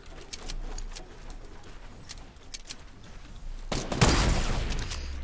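Sniper rifle shots from a Fortnite Battle Royale match ring out as a handful of sharp, spaced cracks over a steady game din, building to a louder, denser burst of gunfire near the end.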